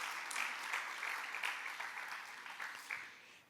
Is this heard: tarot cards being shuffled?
no